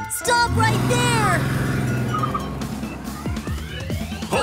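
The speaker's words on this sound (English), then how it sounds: "Blue police car running wee woo wee woo, running really fast to catch a donut thief" A blue cartoon police car's siren wails in rising and falling sweeps, loud and up front, fading as a sung children's tune with voices takes over.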